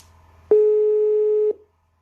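A telephone call is placed, giving a single steady electronic line tone that sounds for about one second, loud and clean, with no voices.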